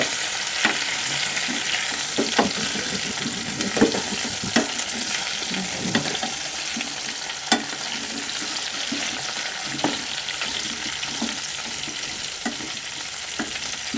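Saragva drumstick pieces sizzle in hot oil for a Gujarati masala curry, a steady close frying hiss broken by occasional sharp pops and the clink of stirring, with no voices.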